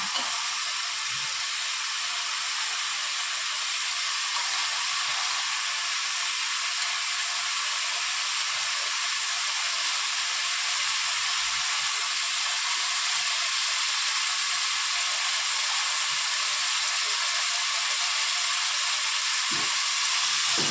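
Onions fry in a pan for chicken biryani, a constant bright sizzling hiss that holds steady throughout with occasional faint clinks and no voices.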